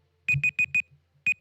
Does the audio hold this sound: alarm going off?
yes